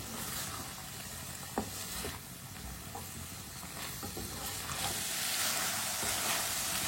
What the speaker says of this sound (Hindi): गाजरें डाल लेंगे कटी हुई। गाजर डाल के भी 2 मिनट के लिए पका लेंगे।